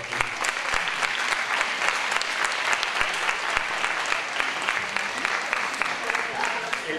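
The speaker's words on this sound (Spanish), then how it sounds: "un fuerte aplauso para Francisco Javier." Sustained audience applause at a 2018 town sports gala, dense steady clapping from a large crowd filling the room at even loudness throughout.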